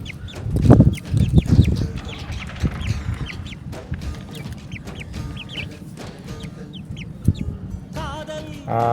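Chickens cluck and peep nearby, with soft high chirps scattered throughout and a few louder low clucks early on.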